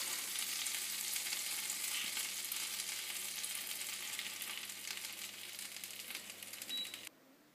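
Slices of bread fry in melted butter in a pan, giving a dense, steady close sizzle that eases slightly toward the end before cutting off abruptly, with no talking.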